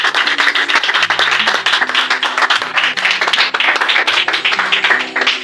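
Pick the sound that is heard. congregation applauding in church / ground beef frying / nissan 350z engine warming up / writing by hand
congregation applauding in church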